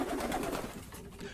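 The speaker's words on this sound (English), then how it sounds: "the pigeons let go a combined call" Pigeons calling together in a soft, rolling chorus of low coos, close and fairly loud at first, then fading slightly.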